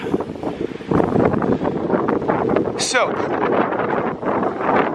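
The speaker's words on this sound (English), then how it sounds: "I know it's super windy" Steady, loud wind buffeting the microphone throughout on the Bering Sea shore at Nome, Alaska, with a brief spoken word near the start.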